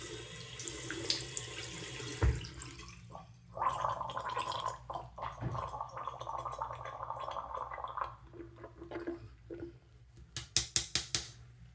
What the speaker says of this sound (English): Gargle with it.